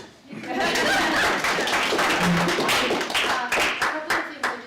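Audience members at a Latino community forum on police accountability burst into clapping that swells quickly and holds, with some laughter mixed in, then thins out into a few separate claps at the end.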